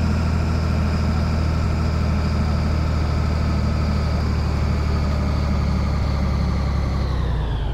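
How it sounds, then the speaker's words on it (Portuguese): Truck engine in Euro Truck Simulator 2 idling steadily and loud, a continuous low rumble with a droning harmonic hum that holds level throughout, dipping slightly in pitch at the very end; no talking. "o som desse caminhão é alto demais"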